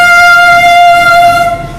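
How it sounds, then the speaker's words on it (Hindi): A train horn blasts close by next to a railway line, one loud, sustained, harmonically rich tone that holds steady and then starts to fade away toward the end. "मैं बिल्कुल रेलवे लाइन के पास खड़ा हूँ इसलिए आपको ये हॉर्न की"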